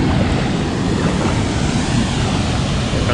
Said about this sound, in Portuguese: A cachoeira é top, não tem nem falar